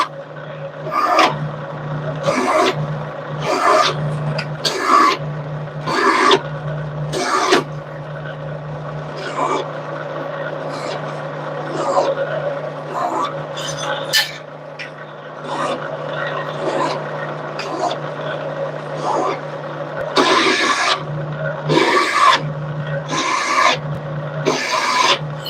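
Repeated rasping strokes chamfer drilled holes in a custom knife, rhythmic scraping bursts in groups over a steady low hum, with quiet talk between the strokes.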